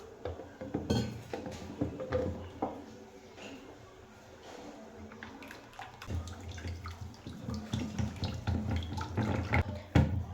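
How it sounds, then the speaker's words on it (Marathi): Water splashing and pouring into a bowl of curd, with scattered clinks of a spoon against the dish, fairly close and moderately loud. "यात अजून आपण पाणी ॲड करणार आहोत"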